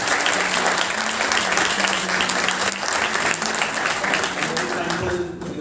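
A Toastmasters audience bursts into loud, sustained applause, dense clapping from many hands rolling on without a break, with some voices mixed faintly underneath.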